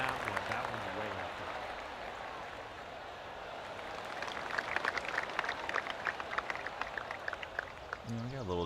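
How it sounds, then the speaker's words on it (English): Crowd applause from a golf video game fills the scene as a steady wash of clapping and cheering, fairly loud throughout, with someone talking over it. "people were feeling like, yeah, the crowd's overpowering and stuff"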